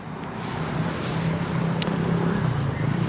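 Road traffic passes behind a person standing outdoors in the Philippines, heard as a steady, moderately loud wash of engine and tire noise that swells slightly over three seconds, with no speech.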